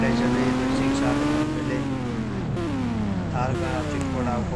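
Continuous loud bike engine whine from Indian Bike Driving 3D, holding a steady pitch before sliding down and recovering as the virtual motorcycle rides on.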